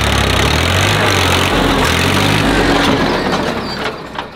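Tractor engine idles with a rotavator attached on a farm, a steady, close, loud diesel chug with even low rumble that eases slightly near the end, no voices.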